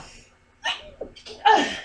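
A single sharp sneeze, preceded by a quick breath in and followed by a short gasp, close and clear.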